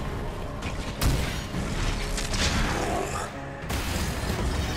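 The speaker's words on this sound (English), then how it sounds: "Explosions. Explosions. More blast. More blast. Explosions." Loud explosions in Dragon Age: Inquisition, a rapid series of booms and crashing blasts close up, with a voice talking over the action.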